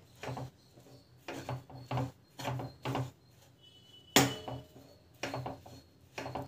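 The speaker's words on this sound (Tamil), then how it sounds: "மாவு போட்டு இப்போ வந்து கலக்கி எடுத்துக்கோங்க." Flour is mixed into a pot with steady rhythmic scraping and rubbing strokes in short repeated bursts, close and fairly clear, with one sharper knock partway through.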